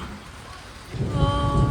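Rain falls outdoors in a steady patter on surfaces, with a voice briefly audible over the downpour.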